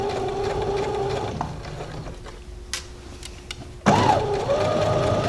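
A sewing machine stitches a men's shirt, its whirring motor running in a steady burst, pausing briefly with soft mechanical clicks, then starting up again close and clear.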